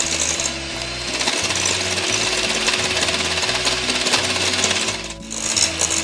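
Electric mixer whipping egg whites and sugar into meringue at raised speed, a loud steady whirring drone up close that briefly dips near the end before resuming.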